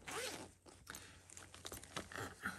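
Soft, slightly fuzzy pencil case being unzipped, with a quick ripping zipper pull followed by a few shorter zipping and rustling strokes close by.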